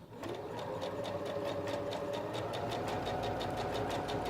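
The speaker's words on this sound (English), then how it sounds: "I'm going to start sewing" A Singer Professional 9100 sewing machine stitching a blind hem, a steady fast mechanical whir with evenly spaced needle clicks, close and alone.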